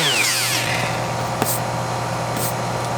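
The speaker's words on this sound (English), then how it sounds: "What I'm going to do now is take the orbital sander with some 220 grit sandpaper" An orbital sander with 220 grit sandpaper scuffs the shine off a guitar pick guard, giving a steady, loud whirring drone with faint scraping, alone without talk.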